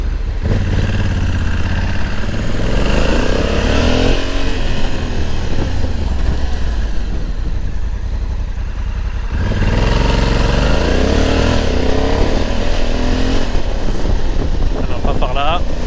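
A Honda Africa Twin 1100 motorcycle engine revs and accelerates in two rising surges on a ring road, loud and close, with a steady engine rumble between them.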